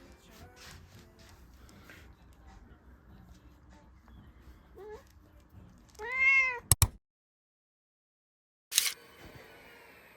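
A cat gives a single clear, close meow partway through, after quiet indoor background with faint talking, followed by a couple of sharp thumps and silence.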